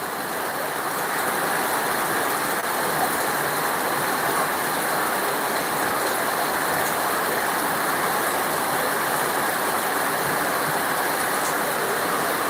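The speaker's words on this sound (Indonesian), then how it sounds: "nampaknya hujannya makin deras" Heavy rain pours down in a loud, dense, unbroken roar that holds steady from start to finish.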